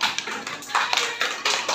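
A classroom of students claps for a classmate in short uneven bursts of hand claps, fairly close and moderately loud, with brief pauses between the bursts.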